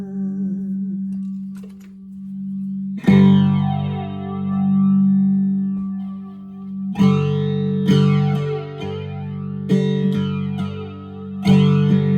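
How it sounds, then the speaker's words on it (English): An electric guitar, a homemade cigar box or repurposed-material guitar, rings out sustained notes and struck chords swept by a swooshing flanger effect, loud and close with no talking. "let's try something else. Flanger."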